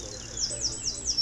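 Small birds chirping at a nature reserve in a former quarry, a quick run of high, thin tweets repeating at a moderate distance over low outdoor rumble.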